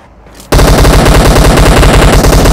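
Automatic gunfire in a video game erupts suddenly after a quiet moment, a loud, rapid, sustained burst of shots rattling close up without pause.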